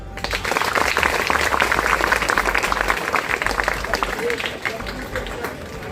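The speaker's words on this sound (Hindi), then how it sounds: "चलिए ताली मारिए।" A classroom audience claps steadily for several seconds, dense overlapping hand claps filling the room at a fairly loud, even level before easing slightly toward the end.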